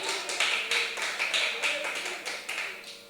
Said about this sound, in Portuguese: Dá uma oferta de palmas ao Senhor.